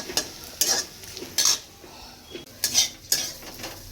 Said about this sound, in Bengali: আজকে ব্রেকফাস্টে বানাচ্ছি হাক্কা নুডলস তবে নুডলসে কিচ্ছু দেবো না মানে শুধু পেঁয়াজ আর একটু লঙ্কা দিয়ে